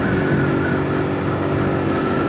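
Steady loud engine drone of a group of motorbikes cruising along together on a road near Mount Mariveles, Philippines, a continuous rumbling hum with no pauses.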